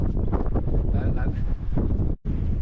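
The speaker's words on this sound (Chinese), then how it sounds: "哇，今天好大风啊！" A strong, icy winter wind in Xinjiang buffets the microphone outdoors, producing a loud, continuous low roar and rumble that dips briefly near the end.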